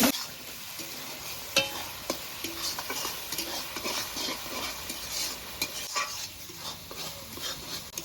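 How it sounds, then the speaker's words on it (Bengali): Spice paste with salt and turmeric is stirred and fried in a pan: a soft continuous sizzle under repeated metallic scrapes and taps of a spoon, with an irregular rhythm of stirring throughout. "এবার মশলাটাকে নেড়ে চেড়ে কষিয়ে নেব"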